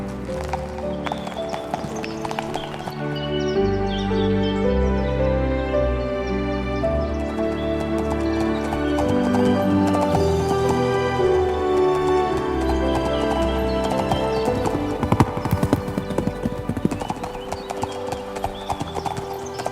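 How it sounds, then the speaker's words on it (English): Rhythmic clip-clop of horse hooves trotting along, layered under a steady bed of music, with a whinny rising partway through. "mounted her horse, and began her journey to her bridegroom"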